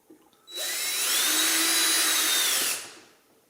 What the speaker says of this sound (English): So let's drill some holes.